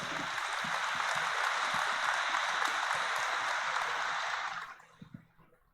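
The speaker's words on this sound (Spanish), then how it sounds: "Mandamos también un fuerte aplauso" Congregation applauding inside a cathedral during Sunday Mass, a dense, steady wash of clapping that carries on for several seconds and then fades out quickly.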